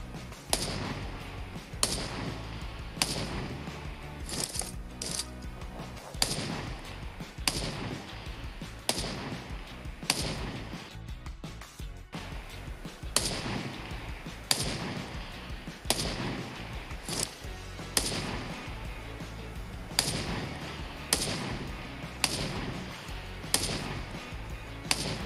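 Gunfire from the mobile game PUBG Mobile comes in sharp single shots spaced about a second apart, repeating steadily over a faint bed of game ambience.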